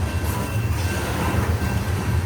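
A CSX coal train passes in Mount Airy as a steady, low rumble of rolling railcars. It stays close and constant throughout, with no voices.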